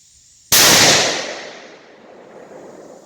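A 7mm Remington Magnum rifle fires a single shot of a 67-grain load during load development; one loud, close blast with a long decaying rumble afterward, no talking.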